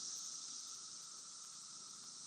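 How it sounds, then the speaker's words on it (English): A continuous, shrill drone of cicadas fills the outdoor air, loud and unbroken, with no voices. "Oh, these cicadas drive me nuts."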